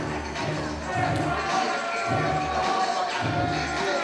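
A wrestling crowd cheers and shouts for Freddie Fantastic at an indie wrestling show. The roar of the crowd is steady, with rhythmic low thuds pulsing underneath and voices mixed in.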